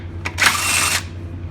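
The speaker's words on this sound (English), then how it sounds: "we got the trusty old Harbor Freight impact back here" A Harbor Freight impact wrench zips out transmission bolts in one loud, sustained burst of roughly half a second, preceded by a short blip, with a steady low hum underneath.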